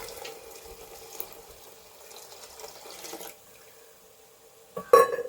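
Squeezed coconut milk poured into a pot of Kerala village-style chickpea curry, a steady soft liquid pour near the mic, ending in a brief louder splash and clink.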